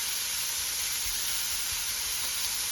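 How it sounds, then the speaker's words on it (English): Meatballs with garlic sauté in a pan, giving a steady, even sizzle with a soft hiss that holds at a constant level throughout, with no voices and no break in the sound. "Just want to saute them for, I don't know, 3 to 5 minutes"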